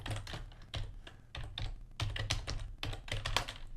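Quick, close typing on a computer keyboard, irregular clusters of key clicks with brief pauses, quiet and alone.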